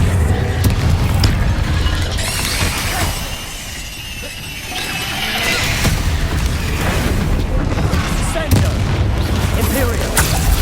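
Bombarda spell blasts in the video game Hogwarts Legacy, heavy booming explosions repeating through a busy combat soundscape with crackling impacts, loud and close, under occasional talk.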